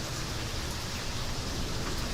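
Steady, dense rain falls straight down outdoors, a constant broadband hiss with no pauses or voices.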